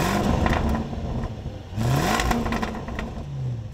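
Loud exhaust blips from a 2023 Land Rover Defender 110's supercharged V8 in its sport tone setting, two sharp revs with a rumbling idle between them, close and alone.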